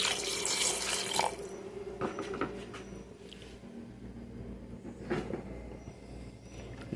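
Water poured into a pot of beans cooking on a wood-burning stove, a close splashing gush that is strongest in the first second and then continues as softer trickles and clinks with no talking.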